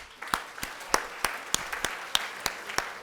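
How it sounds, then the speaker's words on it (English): Sparse, evenly spaced hand claps at a conference session, about ten distinct slaps over a few seconds from a small audience, fairly close with no talk over them. "A huge round of applause,"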